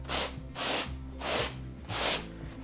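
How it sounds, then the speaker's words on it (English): Fine 220-grit sandpaper rubbing over milk-painted fabric, four steady back-and-forth strokes with a soft, close rasp and no talking. "So I'm just taking 220 sandpaper"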